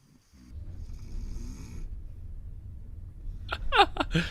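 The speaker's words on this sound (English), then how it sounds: "If only there wasn't a Russian dude snoring in the opposite bunk." A man snores in a bunk, rhythmic low snoring breaths droning close by, ending in a few louder snorting rasps.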